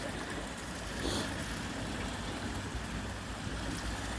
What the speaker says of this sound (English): Oh, they've got a slime waterfall.